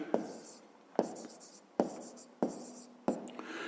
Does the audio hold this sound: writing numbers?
yes